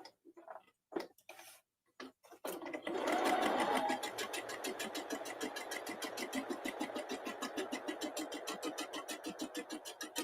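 A newer home sewing machine stitches fabric, starting with a few separate clicks and taps, then running as a steady, rapid mechanical chatter of the needle for several seconds, fairly quiet and close.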